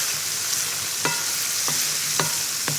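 Meat stews in a pan with a steady, close sizzle throughout, broken by a few light scrapes and clinks as it is stirred.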